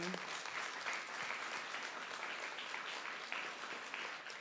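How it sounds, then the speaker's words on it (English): Applause for a breast cancer survivor being honored at a Birmingham City Council meeting, a dense, even wash of clapping from the chamber audience that carries steadily throughout and is quite faint. "another round of applause right there"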